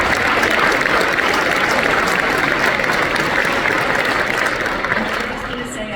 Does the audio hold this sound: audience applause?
yes